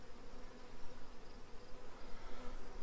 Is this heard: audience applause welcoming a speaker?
no